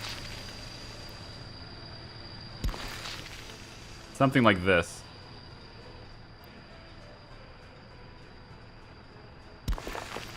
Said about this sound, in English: Squealing sound I hear is a train